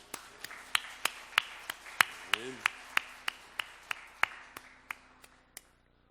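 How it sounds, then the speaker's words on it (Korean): Sharp single claps ring out in a steady even rhythm, about fifteen evenly spaced strikes in a church Sunday service, fairly close and distinct rather than a full congregation's roar. "하나님 앞에 우리 감사의 박수 한번 올려드리겠습니다"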